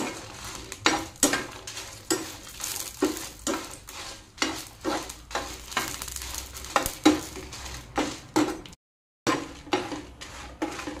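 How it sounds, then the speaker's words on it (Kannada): Twelve Byadagi chillies and eight small chillies fry in oil in a pan while being stirred, steady rhythmic scraping and clinking over a soft sizzle. "ಇವಾಗ ಇದನ್ನು ಸ್ವಲ್ಪ ಫ್ರೈ ಮಾಡ್ತೇನೆ."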